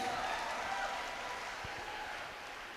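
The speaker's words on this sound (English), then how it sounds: "Can we please appreciate them with a huge round of applause?" Audience applause after a dance performance at a campus event: faint, distant, continuous clapping wash that fades gradually, with a couple of soft thumps near the middle.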